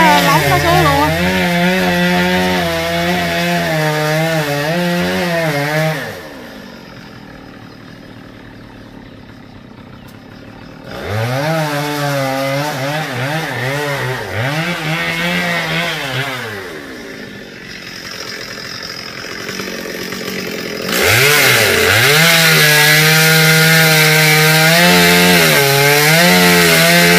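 A chainsaw cutting down a large rain tree standing close against a house wall, the engine roaring loud and near with rising and falling revs, dropping to idle between long cuts and surging back to full throttle.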